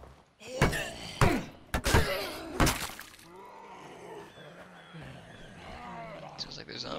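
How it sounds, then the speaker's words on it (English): Zombies snarling and growling in State of Decay, heard after several loud crashing impacts, the growls low and rough, continuing at moderate loudness. "Sounds like there's zombies in there."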